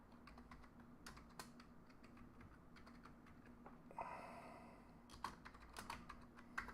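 Quiet, rapid clicking of keys on a computer keyboard, irregular bursts of taps close by with a brief rustle midway, no speech.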